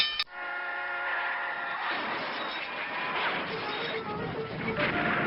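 A train horn blasts briefly at the start, then a passing train rumbles and clatters steadily over a level crossing, fairly close, with no talking.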